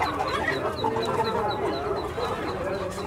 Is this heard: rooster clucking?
yes